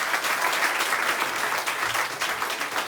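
An audience at an open-mic stage show applauds a volunteer, dense steady clapping filling the room at full strength for the whole stretch without letting up.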